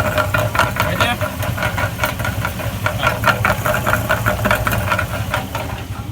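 A GMC Sierra engine with a failed catalytic converter idles with a rapid, loud metallic rattling knock pulsing steadily over the low engine hum, heard close up, with someone talking over it.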